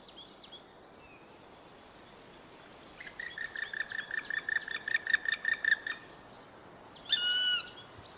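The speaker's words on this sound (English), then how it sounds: "This piercing call announces the arrival of a typical forest dweller, the black woodpecker." A black woodpecker in forest gives a piercing call: a steady run of about a dozen sharp, evenly spaced notes, followed by a short, harsher burst.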